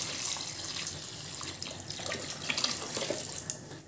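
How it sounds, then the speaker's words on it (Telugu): Water poured into a cooking pot for a tomato dish seasoned with salt and jaggery, a soft, steady splashing trickle that runs continuously for a few seconds, close up and quiet. "ఇలా వాటర్ వేసుకొని"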